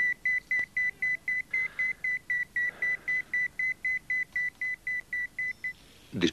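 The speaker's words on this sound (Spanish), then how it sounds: "Oigo esos malditos pitidos hasta en sueños." Electronic beeping: a steady train of about twenty short, evenly spaced high beeps, loud and alone, stopping near the end before a brief knock.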